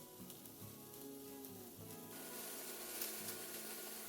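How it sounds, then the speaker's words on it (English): Onions and scallions cook in leftover oil in a pan over medium-low heat, giving a soft, even sizzle that swells a little and keeps a steady hiss, with no talking. "We'll use the remaining oil and add in the onions and the scallions"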